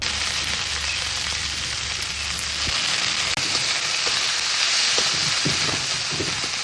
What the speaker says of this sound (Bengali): আর বাকি সব সবজিগুলো ভেজে নেব